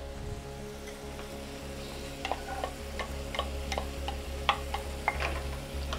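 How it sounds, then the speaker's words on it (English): Onions and spice blend frying in a pan for huevos rancheros quesadillas, a low steady sizzle under a constant hum, with light scraping and tapping of a utensil stirring through the second half. "Mix it up in here and we'll cook these 1 to 2 minutes or until softened."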